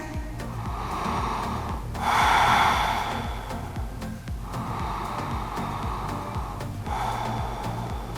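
Slow, deep breathing during a lower-body hip stretch, several long inhales and exhales with louder rushes of air around the middle and near the end, close up and steady, with no talking.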